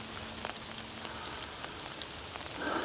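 Rain falling outdoors during a woodcarving session, a soft, faint steady patter with scattered individual drops ticking through, growing slightly louder and denser at the very end.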